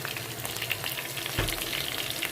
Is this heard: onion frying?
yes